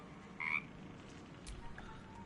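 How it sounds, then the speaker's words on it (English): An adult frog in Baldur's Gate 3 gives one brief croak, close and clear, then a softer rustle over a quiet low ambient hum. "Oh, it's an adult frog."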